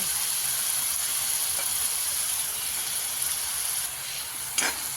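Masala frying in hot oil with grated coconut just added for a Kolhapuri egg curry, a steady bright sizzle and hiss that runs throughout, with a faint stir scrape near the end.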